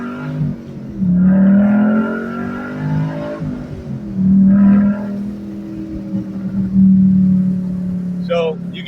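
A 2013 Ford Mustang Boss 302 V8 revs up loudly in several bursts, rising and falling with a deep exhaust roar near the microphone, briefly settling toward idle between blips.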